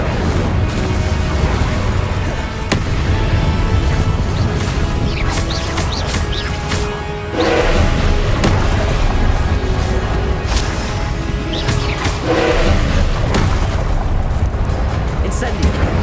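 The Incendio fire spell cast repeatedly in the video game Hogwarts Legacy, loud roaring bursts and crashing impacts layered over game sounds, with a voice talking intermittently.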